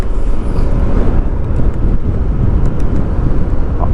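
A motor scooter running on Gulf Oil engine oil rides at speed, a loud, close, continuous roar of engine and road noise heavily buffeted by wind against the microphone, with no voices.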